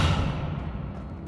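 Descendo spell slamming a target to the ground in Hogwarts Legacy: a heavy, low, rumbling thud that lingers briefly, then a sharper impact right at the end.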